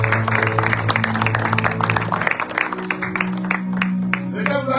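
Congregation at a prophetic religious conference applauding and cheering, a dense wash of clapping over sustained voices and music tones, loud and continuous.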